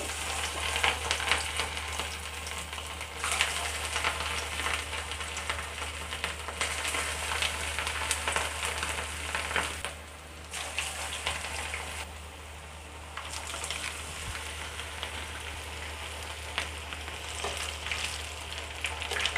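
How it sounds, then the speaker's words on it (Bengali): Prawn and vegetable chops fried in hot oil, one dropped in after another: a loud, continuous close sizzle with bubbling crackle that briefly softens and then picks back up, with no voices. "তেলটা গরম হয়ে গেছে, চপগুলো এইভাবে করে এক এক করে আমি ছেড়ে দেব"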